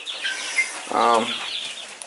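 A brief burst of wing flapping with a short chicken cluck from young chicks in a coop, close by, set against a soft chirping background.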